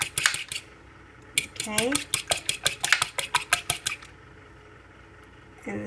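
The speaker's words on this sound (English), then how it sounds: "I've broken up the egg in the bowl, and I'm just going to whisk it up" A whisk clatters quickly and rhythmically against a bowl while beating egg, a steady run of bright metallic ticks for a few seconds, with a brief spoken word before it.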